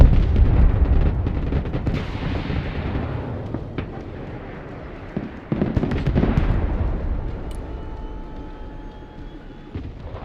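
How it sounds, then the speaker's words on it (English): Heavy artillery fire in the video game Broken Arrow, loud rumbling booms and blasts rolling one after another, strongest at the start and fading toward the end. "No, more artillery."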